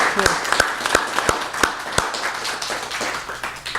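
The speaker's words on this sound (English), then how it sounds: "can we have a round of applause for Michael, who's just done so much and bringing the books out here" An open mic audience gives a round of applause: a short burst of clapping with several sharp, distinct claps standing out near the front, thinning out after about two seconds into scattered taps under a low murmur.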